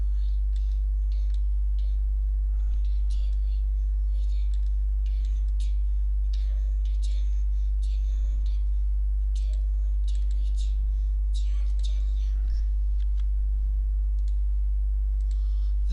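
Computer keyboard keys clack in light, irregular bursts of close, crisp taps over a steady low electrical hum, with no talking.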